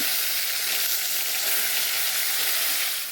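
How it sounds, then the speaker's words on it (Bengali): Pointed gourd (potol) pieces frying in hot oil give an even, loud, close sizzle that holds steady throughout and eases off slightly at the end. "এবার এই পটলগুলোকে ভেজে নেব তেল বসিয়ে দিয়েছি এবার এই পটলগুলোকে এক এক করে দিয়ে দিচ্ছি"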